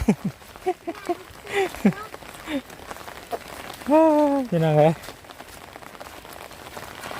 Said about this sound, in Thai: บรรยากาศแบบฝนตก